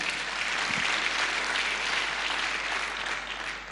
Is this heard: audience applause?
yes